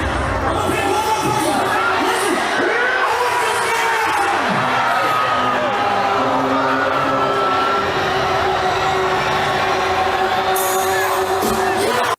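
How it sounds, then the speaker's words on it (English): Dense, continuous roar of a large concert crowd at Astroworld 2021, with high screams and shouts layered through the noise, loud and sustained throughout. "Two, focus on the screaming."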